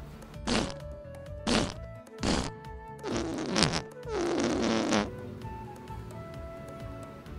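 Whoopee cushions stuffed inside a piano blurt out a series of fart noises as keys are pressed: three short bursts, then two longer, louder ones close together, followed by quieter faint tones.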